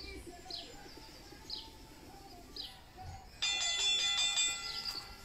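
A two-note doorbell chime rings out clearly over a quiet room during a home HIIT workout with a chair, following faint bird-like chirps.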